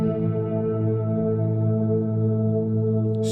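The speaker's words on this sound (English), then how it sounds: "if you play just one note on the guitar, that's gonna sound like this" A single guitar note drenched in shimmer effect with octaves above and below, a steady, dense sustained drone that holds evenly throughout, loud and alone.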